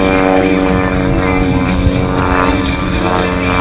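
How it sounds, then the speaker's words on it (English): A Decathlon aerobatic airplane with a smoke system flies an airshow display at a harvest festival, its propeller engine a loud, steady, unbroken drone throughout. "What beautiful smoke system RJ has in that airplane"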